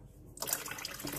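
Water poured into a pot of rice pudding on the stove, a short steady splashing flow that starts abruptly and continues close up.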